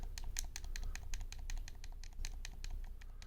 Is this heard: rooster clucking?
no